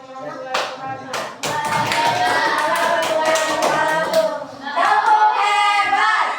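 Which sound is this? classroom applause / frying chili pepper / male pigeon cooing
classroom applause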